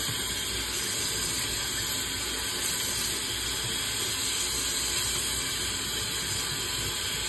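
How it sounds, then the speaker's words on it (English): Steady running tap water rinses a synthetic wig, a continuous loud hiss and splash filling the whole stretch with no voices. "Just rinse it like this."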